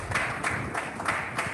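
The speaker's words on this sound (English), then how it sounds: "A round of applause for her," An audience applauds a World Bank representative at a public presentation, a dense wash of many clapping hands, steady and fairly loud, with rhythmic pulses running through the crowd noise.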